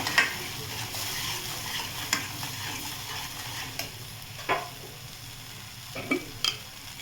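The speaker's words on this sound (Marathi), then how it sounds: "आता हे पण चांगलं परतून घेते।" Paneer butter masala spice mix, meant for a soybean curry, sizzles in a hot pan as a spoon stirs it, with a steady fry and a few sharp scraping knocks up close.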